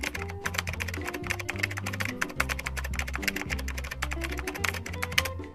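A web address being typed on a computer keyboard: continuous rapid key clicks in an uneven rhythm, close and clear, with music playing underneath.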